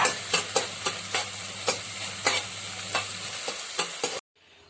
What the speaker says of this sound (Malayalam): കഴുകി വൃത്തിയാക്കി വെച്ചിരിക്കുന്ന ഉണക്ക ചെമ്മീൻ നമുക്ക് വറുത്തെടുക്കാം.